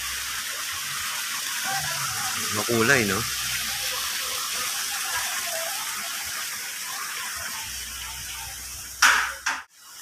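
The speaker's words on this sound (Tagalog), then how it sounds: "So, daloy-daloy yung tubig." Water flows steadily into a pool at a botanical garden in Baguio, a constant close rush and splash heard under a person talking.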